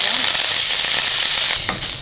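Dried chillies and curry leaves fry in hot oil for a tempering, giving a loud, close, continuous sizzle with faint crackles and a brief stirring scrape.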